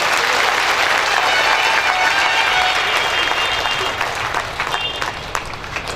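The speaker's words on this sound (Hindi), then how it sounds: "सबके लिए जोरदार ताली बजा दें।" An audience at a Brahma Kumaris stress-relief camp applauds loudly and steadily, the clapping thinning slightly toward the end.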